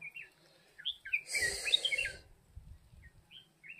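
Several short, high bird chirps come and go quietly, with a brief burst of rustling noise in the middle.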